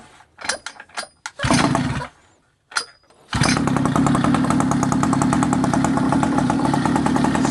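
An abandoned mini bike engine pull-started, with a few cord rattles and brief sputtering attempts before it catches and settles into a loud, steady, close small-engine idle.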